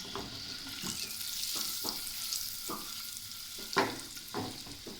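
Boiled eggs frying in oil over a medium flame make a continuous soft sizzle, with several distinct knocks and scrapes as they are turned now and then, close and without voices.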